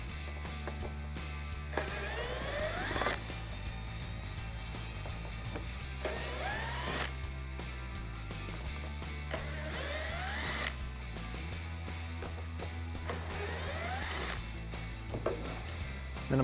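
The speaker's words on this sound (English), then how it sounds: "I'm gonna use a T20 Torx bit, and I'm gonna remove the four screws and unplug the ballast" Power driver with a T20 Torx bit backing screws out of a 2015-2017 Mustang headlight housing, several rising whirring runs separated by short pauses, close and fairly quiet with no talking.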